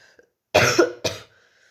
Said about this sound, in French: Excusez-moi, je dois tousser.